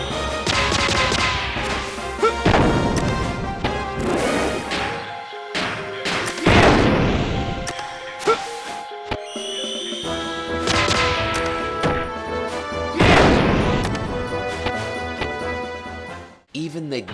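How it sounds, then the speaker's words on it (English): Xenogears death blow attacks from the PlayStation RPG: a loud run of heavy smashing, thudding impacts and booming crashes over dense game music, with bursts coming in clusters and brief pauses between. "When I first saw these death blows, I couldn't believe it, and the sound effects are top notch."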